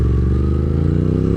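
Motorcycle engine, an Aprilia RS 660, droning steadily and loud at close range with a low rumbling hum, ridden on country roads at night, with no talk over it.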